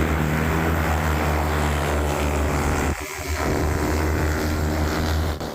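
A heavy Baba Yaga electric combat drone flies close and loud, a steady droning whine with a strong low hum, broken by a short dip before the sound resumes.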